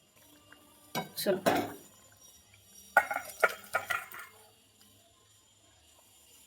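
A metal pot of cauliflower, shrimp and potato curry clanks and scrapes as a ladle or spoon works it out, with a few sharp knocks in two bursts, fairly close, and a brief spoken word.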